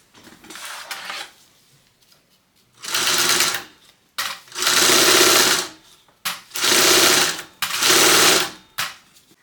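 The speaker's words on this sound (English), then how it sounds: "you just need to sew along both edges at 1/8 of an inch seam allowance" A sewing machine stitches along both edges of a fabric train case at a narrow seam, running in four steady bursts separated by short pauses, close and loud with no talking.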